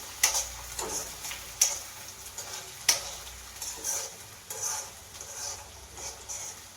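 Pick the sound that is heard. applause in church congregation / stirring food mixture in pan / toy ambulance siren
stirring food mixture in pan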